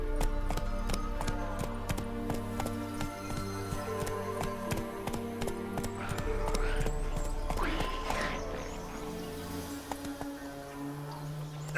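Horse hooves clip-clopping at a steady walk over ground in The Witcher 3, Geralt's mount Roach, with a game music bed beneath and a brief rise of ambient rustle midway.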